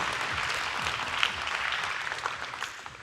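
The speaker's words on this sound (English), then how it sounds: "Thank you so much for that applause" Conference audience at Big Kansas City 2014 applauding a speaker, a steady wash of many hands clapping at moderate distance, sustained throughout without letting up.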